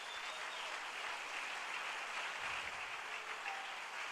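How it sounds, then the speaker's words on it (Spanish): Steady crowd applause at a church service, a dense continuous patter of many hands clapping, moderately distant and even in level throughout. "Denle un aplauso bien fuerte al Rey"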